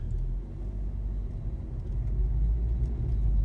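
A 2017 VW Golf R with DSG automatic gearbox drives off in eco mode, its engine a steady low rumble with road noise throughout, no clear revving.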